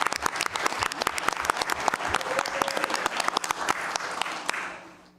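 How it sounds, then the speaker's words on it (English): Dense, sustained applause from a school board meeting audience welcoming a new middle school principal, steady clapping for about four seconds before tapering off at the end. "So I'd like to first give him a big round of applause."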